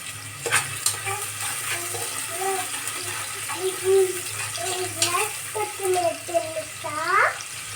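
Oil sizzles softly and steadily in a pan as chopped onions fry in tempering oil, while someone talks over it in short phrases.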